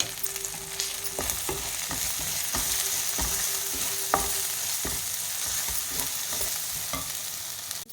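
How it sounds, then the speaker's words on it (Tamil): Garam masala, coriander powder and cumin powder sautéing in oil in a pan, a steady close sizzle with regular scraping strokes of a spoon throughout. "பாருங்கள் நல்லா மசாலா எல்லாம் வதங்கி பச்சை வாசனை போயிடுச்சு."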